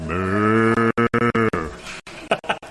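A man imitates a cow with a long, low, drawn-out moo that breaks into choppy grunting pulses, loud and close, with no other talk.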